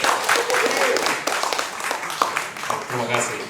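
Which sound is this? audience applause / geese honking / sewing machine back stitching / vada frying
audience applause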